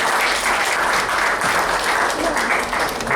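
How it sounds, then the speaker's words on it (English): An audience at a university white coat ceremony applauds, a full, steady, close burst of many hands clapping without a break. "Please, can we give a round of applause for that wonderful"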